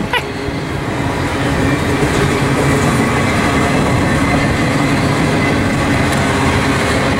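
A heavy freight train rumbles past up close, a steady loud roar of rolling wheels and cars with faint rhythmic clacking throughout.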